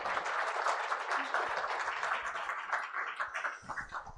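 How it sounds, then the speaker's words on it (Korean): Applause from a breakfast forum audience in a hotel hall after a piano performance by a bandleader, a dense crackle of many hands that stays strong before thinning out near the end. "다시 한번 여러분 큰 박수를 부탁드리겠습니다."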